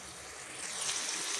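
Jackfruit chips frying in reused hot oil, a broad steady hiss of bubbling oil that swells slightly louder midway, close and continuous, with no talking.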